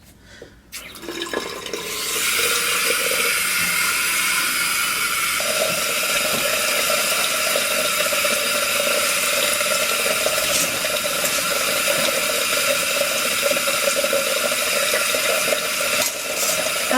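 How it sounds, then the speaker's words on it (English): Tap water running steadily into a bathroom sink as hair is rinsed until soaking wet, a loud continuous close hiss after a short mechanical start. "dip it in the sink and rinse it until it's soaking wet and completely straight"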